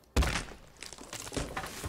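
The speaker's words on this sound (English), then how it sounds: "it makes that really, really, really satisfying, chunky tree explosion sound" A tree bursts apart in a chunky explosion in the game EQ Next Landmark, opening with a heavy thunk and followed by a loud crumbling, clattering rush of debris that rises again near the end.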